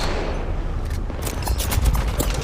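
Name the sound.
gunfire in the video game Apex Legends Mobile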